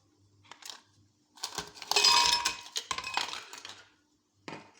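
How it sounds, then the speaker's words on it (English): Smoothie ingredients such as yogurt, honey, orange and banana go into a blender, giving a few separate clinks and clattering knocks of food and utensils against the container, with quiet gaps between them and no voices. "I am going to be adding in my ingredients into the blender"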